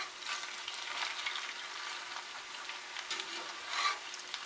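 Onions and green pepper sizzle and fry steadily in a pan while being stirred, a close, continuous crackle with soft scraping and no talking.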